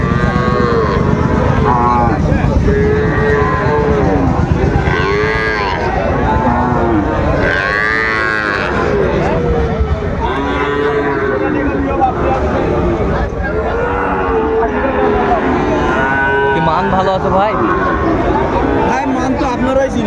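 Sahiwal cattle low repeatedly at a livestock market amid a busy crowd of chattering voices, the moos rising and falling over the steady hubbub.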